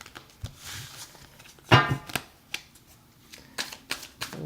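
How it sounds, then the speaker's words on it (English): Tarot cards shuffled by hand in a run of soft, crisp riffles and taps, with one sharper snap as a card is drawn, close and fairly quiet. "I want to actually pull a card"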